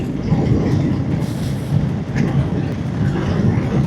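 A metro train runs on an elevated track beside a road, heard from a moving motorbike as a steady, loud rumble with rail clatter under constant road and wind noise.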